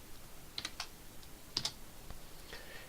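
Keystrokes on a computer keyboard while a spreadsheet formula is typed, a few quick clustered taps, then a pause and a couple more, fairly faint over a quiet room hiss.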